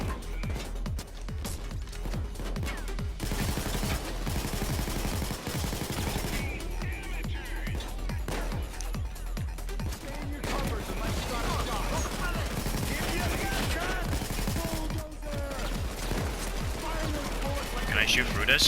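Rapid gunfire in the heist shooter Payday 2, with rounds fired through a forklift: dense bursts of automatic shots and clattering impacts run continuously and loud, with a voice talking over the shooting.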